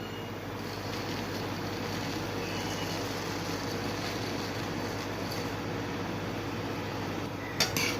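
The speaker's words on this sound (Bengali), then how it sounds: "ভালো করে মিক্স করব শিরাটার সাথে এটা ইনস্ট্যান্ট বোঁদে তৈরি হচ্ছে" Boondi being stirred into boiling sugar syrup in a pot at home makes a steady, close bubbling hiss throughout, with a brief clink near the end.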